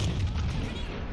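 Heavy naval gunfire from battleships and a supercruiser in World of Warships Legends, a dense continuous low rumble of booming salvos filling the whole moment, loud and close with no talking.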